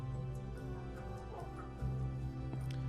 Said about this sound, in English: here's the dog kennels. Kennels in here for all the dogs